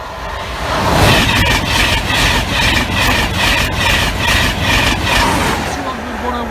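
A steam locomotive, the Flying Scotsman, thunders past a level crossing at Cromwell Lane, loud and close, its carriages rolling by with a steady rhythmic clatter that fills the whole stretch, with a voice faintly underneath.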